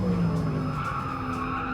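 Porsche Taycan Turbo S tires squealing steadily in the GT Sport video game, a loud continuous skid screech over the electric drivetrain hum, with no talk.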